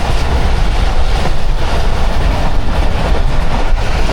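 The Shah Hussain Express running from Karachi to Lahore rumbles loudly and continuously, with steady wheel clatter and a dense roaring rush heard from inside the coach.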